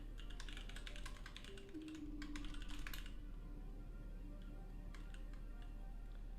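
Fingers type on a computer keyboard in quick bursts of soft clicks, then slow to scattered taps against a quiet room hum, with faint voice sounds now and then.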